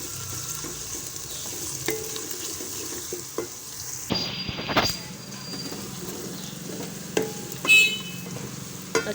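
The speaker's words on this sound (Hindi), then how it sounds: "अभी पहले इनको प्याज को थोड़ा सा फ्राई कर लेते हैं" Onion frying in a pan with ginger, garlic and green chili paste, a soft steady sizzle broken by occasional stirring scrapes and clinks, close by with no talking.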